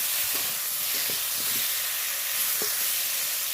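Raw banana and potato pieces frying in oil in a pan, a steady loud hiss of sizzling throughout with a few faint knocks from stirring.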